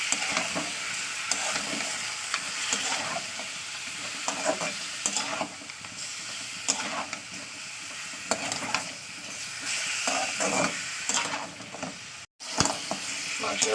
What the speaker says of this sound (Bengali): ভালো করে তেলের সঙ্গে মিশিয়ে দিতে হবে